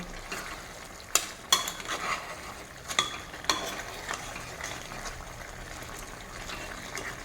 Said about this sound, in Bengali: এখন ফ্লেমটা হাইয়ে রেখে একটু কষিয়ে নেবো